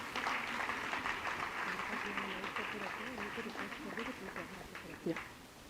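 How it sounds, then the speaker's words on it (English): Audience clapping at a foundation day award ceremony, continuous dense applause that fades slightly over time, with some voices mixed in. "Please give a big round of applause."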